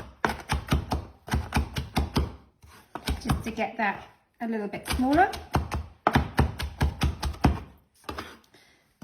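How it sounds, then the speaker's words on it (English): Knife cross chopping fresh mint, basil and tarragon on a board, a run of quick rhythmic taps in bursts, close and clear, with someone talking between and over the strokes. "And then we're just going to do a bit of cross chopping."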